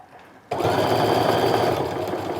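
A sewing machine stitches a pleated fabric wristlet, starting abruptly and running as a steady, loud, close mechanical whir with no talk.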